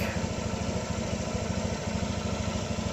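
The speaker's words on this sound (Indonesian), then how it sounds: "ketika mesin hidup" A car engine runs steadily at idle during a radiator check for a coolant leak, a continuous close, loud rumble with an even throbbing pulse and no talk.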